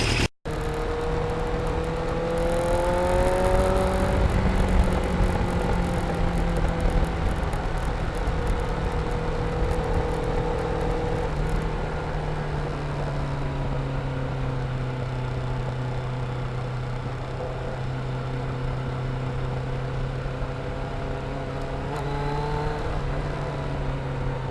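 Yamaha FZR 750 motorcycle riding on wet, slippery, salted winter roads, its engine droning steadily with rising and falling pitch as it accelerates and shifts, close and continuous with constant wind rush throughout.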